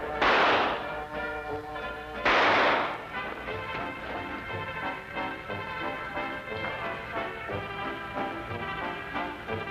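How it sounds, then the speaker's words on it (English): A gunshot in a 1955 Sherlock Holmes radio drama, heard as two loud, broad cracks early on, each with a brief decay, followed by sustained dramatic orchestral music. "Fire it, Holmes. Fire it!"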